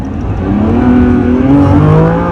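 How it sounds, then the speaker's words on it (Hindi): Sports car engine fired up on a mountain road after running in EV mode, revving loudly and close with a rising, droning tone that swells through the short burst. "अभी इंजन फायर होगा देखना"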